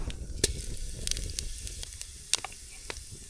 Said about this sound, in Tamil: இப்போ இறக்கி வச்சுட்டு தாளிப்பு ரெடி பண்ணிடலாம் இன்னும் எல்லாம் சூடாயிடுச்சு கடுகு சேர்த்துக்கலாம்